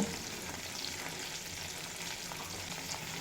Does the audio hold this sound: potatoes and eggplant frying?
yes